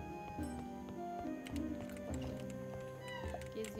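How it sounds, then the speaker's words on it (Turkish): A cat wanders and meows in a cozy pub-management game, its calls appearing as short tonal bursts over a busy background of game music and ambient ticking, moderately close. "burada da kedi kardeş var"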